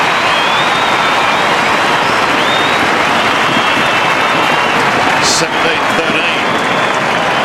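A loud, sustained roar from a large crowd cheering at a 1994 Australian football match between Adelaide and Essendon after a goal, a dense wash of noise filling the whole stretch without pause.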